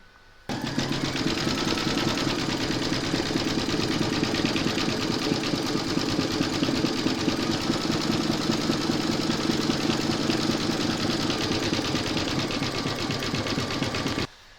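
Computerized embroidery machine satin stitching an owl appliqué design, a steady, fast mechanical needle rattle with a low motor hum that runs loud and unbroken from start to finish after a brief quiet opening.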